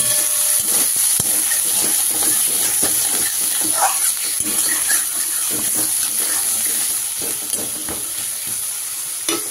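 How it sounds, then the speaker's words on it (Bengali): Potatoes fry in hot oil as part of a radish curry, giving a loud, close, continuous sizzle with crackles and occasional stirring scrapes throughout. No one speaks. "এই তেলের মধ্যে আমি আলুগুলোকে সুন্দর করে লাল লাল করে ফ্রাই করে নেব"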